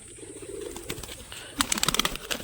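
A male pigeon in flight, soft flapping at first, then a quick burst of clattering wingbeats near the end, close by, with no talking.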